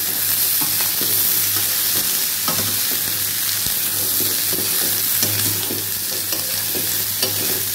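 Papaya curry sizzling and frying steadily in hot oil in a pan, a continuous close crackle with occasional stirring scrapes and no talking.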